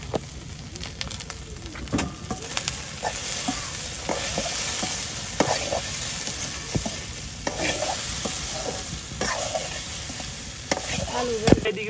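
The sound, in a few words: okra frying in a pan with turmeric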